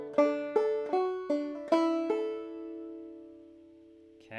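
Clawhammer banjo picks a short phrase of the fiddle tune Belle of Lexington, about six bright plucked strikes ringing out and then sustaining into a long fading chord, played solo and close with no voices.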